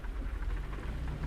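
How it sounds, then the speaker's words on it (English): Steady rain drums on a truck cab in American Truck Simulator, a dense, continuous hiss with low rumble underneath, close and even throughout, with no talking. "I really can't stand this rain."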